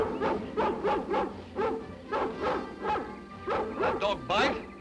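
A dog barks repeatedly in a steady run of about a dozen close, loud bow-wow barks with a few higher yipping notes near the end.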